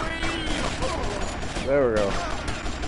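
Game gunfire rattles through a 1980s-styled Yakuza shootout, a steady background fusillade of shots beneath a voice briefly speaking over it.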